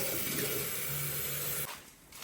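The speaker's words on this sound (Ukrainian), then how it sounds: "це, мабуть, з бойлера стікає" Water runs steadily from a boiler in an apartment with a hissing rush, then cuts off abruptly, leaving a quieter trickle.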